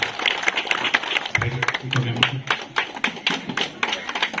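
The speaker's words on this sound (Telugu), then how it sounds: "గట్టిగా చప్పట్లు కొట్టారు." An audience at a celebration honouring elders claps, a fairly close patter of many quick, uneven hand claps with a brief low thump partway through and faint voices underneath.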